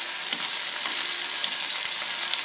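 Diced potatoes, red onions and pancetta with rosemary frying in olive oil, a close, lively crackling sizzle with scattered pops and light stirring scrapes, continuous and without speech.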